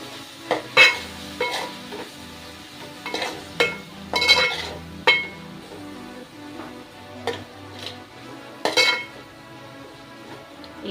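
Spice powder, turmeric and salt being stirred in a frying pan for an okra fry, with a dozen sharp scrapes and clinks of the spoon against the pan over a soft, steady sizzle, close and without talk.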